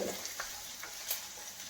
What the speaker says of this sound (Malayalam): വെളുത്തുള്ളി ഇഞ്ചി ഏകദേശം മൂക്കുണ്ട്